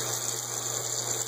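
A bathroom faucet runs at a steady, low-level gush during teeth brushing, a continuous water sound without any talking.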